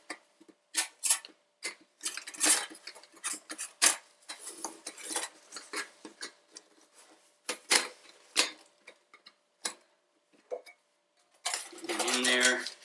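A metal camping cook pot handled while unpacking gear for a mountain camp: sparse clanks, rattles and clinks of lid and pot in quick irregular bursts, close and fairly quiet, with a brief scrape at the end.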